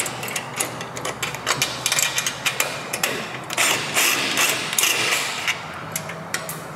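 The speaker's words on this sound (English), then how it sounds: "Oh, I was unscrewing." Close, rapid ratcheting clicks and mechanical rattles from a hand tool unscrewing a fastener on a BMW F80 M3 during an LS swap, in quick irregular bursts with no talk.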